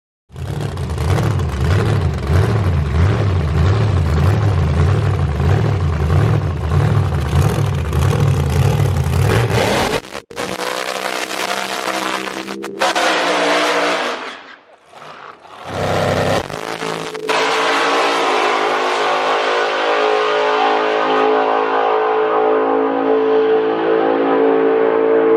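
A Hellcat Challenger roars loud and close through a drag racing run, a steady high-revving engine howl with rising harmonics, then sharp drops as gears shift and the throttle lifts, followed by a fading, whirring wind-down.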